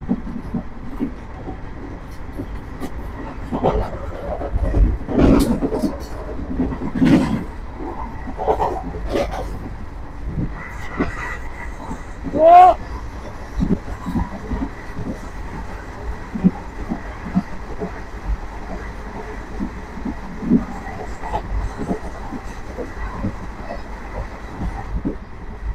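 The 13431 Balurghat Express runs between Gajni and Biratpur with a continuous low rumble and rattling wheel clatter, scattered sharp clanks, and one brief squeal partway through, heard from on board over a long stretch.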